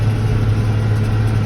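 Case IH 7230 tractor fitted with dual wheels runs its engine in a field while turning, giving a loud, steady, close diesel drone with no voices.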